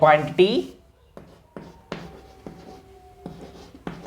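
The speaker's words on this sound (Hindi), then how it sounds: "तो सबसे पहले मैं यहां पे लिखने वाला हूं" Writing on a board during a physics lecture on vectors makes a series of short, distinct scraping strokes with faint squeaky tones, following a brief burst of voice at the start.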